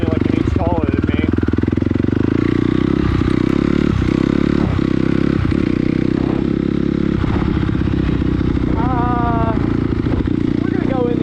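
A dirt bike engine, a Kawasaki KLX140 or a Honda CRF250R on a trail, drones loud and close throughout with revving fluctuations and clattering, while a voice talks over it.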